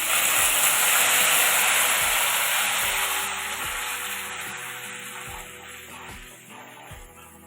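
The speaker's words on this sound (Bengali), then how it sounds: "এবার আমার বেটে রাখা মশলাটা দিয়ে কষিয়ে নেব" Ground spice paste frying in a pan for a vegetarian Bengali green jackfruit curry, a loud close hiss that eases off over several seconds, with a faint regular low thumping underneath.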